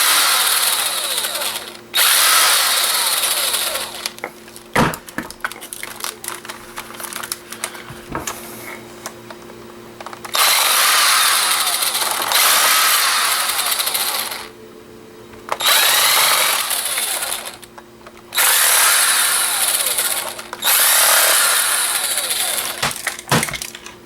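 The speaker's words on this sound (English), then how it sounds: "Tiny screws everywhere, but once you remove them all, it looks like it comes apart pretty easy." Loud power screwdriver whirring in repeated bursts of several seconds, separated by short pauses, as tiny screws come out of old scrap electronics.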